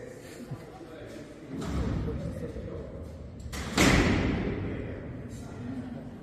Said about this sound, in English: There'd be another officer there who just slammed 14 doors,